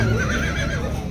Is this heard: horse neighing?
yes